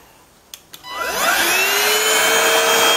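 A PRETTYCARE W200 upright vacuum cleaner switches on after two brief clicks, its motor whining up to a loud, steady, close hum that holds to the end.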